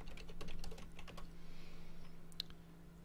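Someone types a password on a computer keyboard: a quick run of close key clicks and taps, quieter toward the end, over a low background hum.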